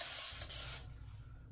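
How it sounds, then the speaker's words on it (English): A brief hissing spray of warm water from a bottle onto hair, close and soft, lasting under a second before fading to quiet. "I'm just gonna spray it with a little bit of warm water."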